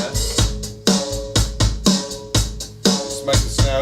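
Rock drum kit playing a steady verse groove with a compressed snare added, punchy kick and snare hits repeating in an even rhythm over ringing cymbals, close and loud with no talk.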